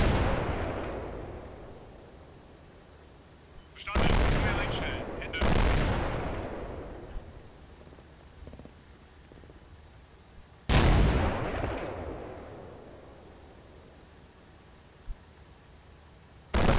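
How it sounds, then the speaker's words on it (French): Artillery shells from the war game Combat Mission Shock Force 2, several sharp, loud booms with long rumbling decays arriving a few seconds apart, separated by quiet low background. "ça faisait encore un bon paquet d'obus en vol"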